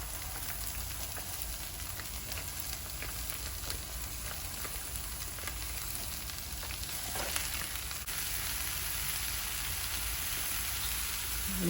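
Hot sausage frying in a pan for cheesy sausage empanadas, giving a steady, dense sizzle that holds at an even level throughout with no break.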